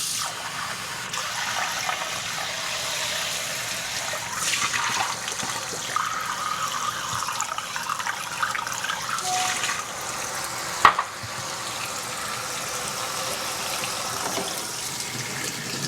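Tap water runs steadily over kefir grains being rinsed in a kitchen sink, a continuous splashing hiss with a brief clink near the end, fairly quiet and without talk.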